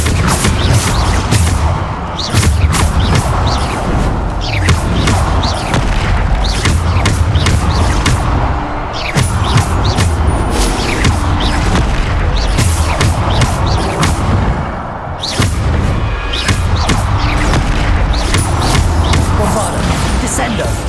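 Bombarda spell explosions in the Hogwarts Legacy game land as repeated loud booming crashes amid dense combat noise, with a voice talking over the action.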